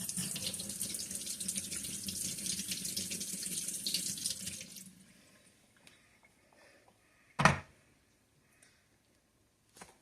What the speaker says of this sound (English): So let me put this under warm water again.